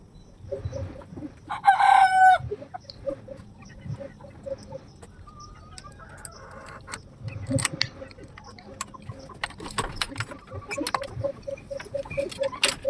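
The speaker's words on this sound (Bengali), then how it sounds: "এটা আমার মুরগির ঘর" Chickens in a backyard coop cluck and crow, a loud rooster call rising early, followed by scattered clucking, pecking and faint rustling, with quiet background sounds throughout.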